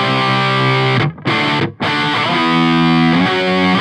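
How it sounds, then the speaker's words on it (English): Heavily distorted electric guitar chords through a DiMarzio lead pickup, not coil-tapped, ring out loud and sustained, with two brief choked gaps before the chord rings on. "Now I'm going to go to some distortion."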